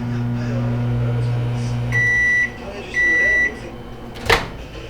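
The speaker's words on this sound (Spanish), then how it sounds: "ponerle unos 30 segundos aproximadamente en el microondas" A microwave oven heats a bowl of noodles with cheese: a steady hum runs for about two seconds, two long beeps follow, then a sharp click of the door.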